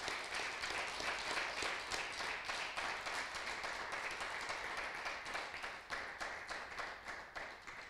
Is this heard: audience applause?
yes